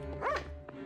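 A dog in a video game gives a single short bark, fairly close, with a small sound just after it.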